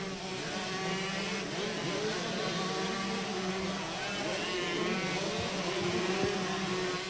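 Several 125cc supercross bikes, led by Stuart Bennett's Kawasaki, race around the Newcastle Motordrome track, a dense steady engine drone of multiple motorcycles at mid distance with no pauses.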